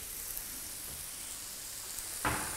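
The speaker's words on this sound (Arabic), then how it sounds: "هكذا تقلى مليح" Vegetables frying in a pan make a steady, even hiss of sizzling that holds for the whole stretch, ending in a single brief knock near the end, close and moderately quiet.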